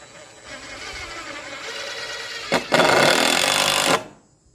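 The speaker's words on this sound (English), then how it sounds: "So I'm going to drive these screws home." Power drill driving screws into wood in a woodshed, a steady motor whine that builds, pauses briefly, then surges louder for about a second and a half before stopping, close and alone.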